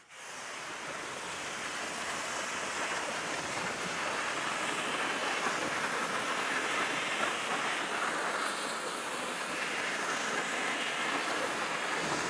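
A car being rinsed down with water during winter detailing, a steady broadband hiss of spray hitting the bodywork that runs unbroken and fairly loud for the whole stretch, with no talking.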